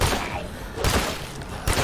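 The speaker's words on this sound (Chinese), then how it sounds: "我看我的伙伴跟邻居在开枪啊" Gunfire from companions in the zombie survival video game State of Decay 2, a dense burst of shots with thuds and low rumble, loud and continuous through the moment.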